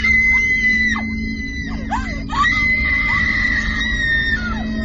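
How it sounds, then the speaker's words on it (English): A woman screams in terror, loud and close, with repeated shrill, wavering cries that rise and fall over a steady low hum and a noisy background. "The awful silence closed in, and Edith began to scream."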